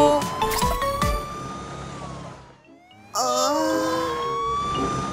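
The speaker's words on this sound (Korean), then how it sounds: "구급차가 달려요. 출동해요." An ambulance siren from a children's cartoon about playing hospital wails in rising and falling sweeps, loud and near. It cuts out briefly at the midpoint, then returns over a music bed.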